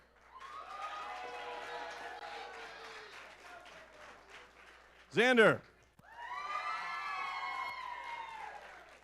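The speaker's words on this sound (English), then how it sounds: "let's give a quick round of applause" Cheering voices and a crowd roar at a pie-eating contest, in two bursts, with a short loud shout or horn-like cry between them.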